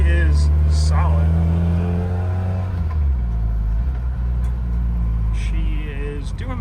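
A Scion FR-S idles with a low, steady rumble close by while someone talks over it, the engine hum continuing evenly beneath his voice.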